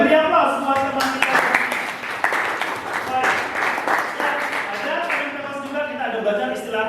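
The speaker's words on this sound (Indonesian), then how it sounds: "beri aplaus buat teman kita" A classroom applauds a classmate during a lesson on Pythagorean triples, with a sustained burst of clapping from many students that carries over mixed chatter and voices for several seconds.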